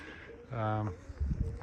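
Racing pigeons at a loft give a single short, throaty coo, close and fairly clear, followed by soft low rumbling and shuffling noises.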